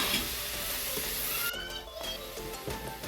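Tomatoes and bell peppers fry in a pan with a close, hissing sizzle, followed by stirring sounds and softer crackles.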